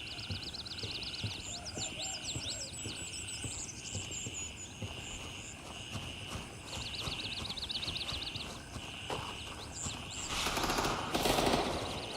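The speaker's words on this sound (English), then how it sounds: "We got shots fired, but I think it was another player." Gunshots in the military shooter Gray Zone Warfare: faint, distant cracks and short bursts of fire scattered over a steady outdoor ambience with birds and insects, growing louder near the end.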